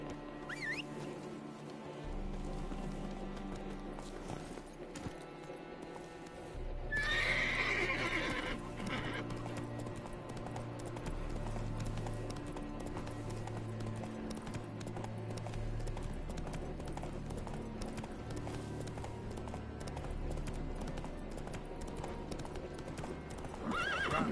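Roach the horse gallops with steady rapid hoofbeats and lets out a whinny in The Witcher 3 video game, the clip-clop running continuously over a layered game soundtrack.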